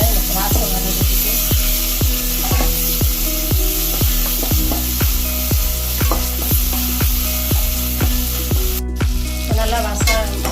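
Ground masala paste sizzles and fries steadily in a pan for a spicy sea crab gravy, with loud continuous crackle and a regular scraping stir repeating about twice a second throughout, without any talk.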